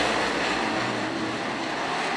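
UMP late model race cars charge off at the green flag in a heat race, a dense, steady roar of engines filling the air at constant loudness with no voices over it.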